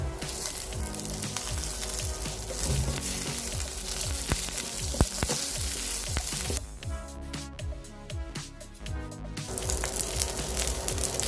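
Curry leaves fry in hot oil for a brinjal curry, making a loud, steady, crackling sizzle that stays close throughout. It thins briefly partway through, then returns at full strength.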